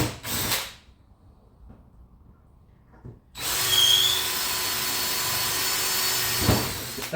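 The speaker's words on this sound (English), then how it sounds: "we're going to drill these little rivets out first" A power drill whirs steadily and loudly up close for several seconds, drilling out small rivets on a Honda Rancher ATV, following a brief burst of noise and a quiet pause.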